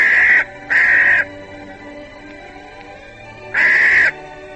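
Three harsh caws from a large crow-like bird ring out close and loud, two in quick succession and a third after a pause, over a faint background.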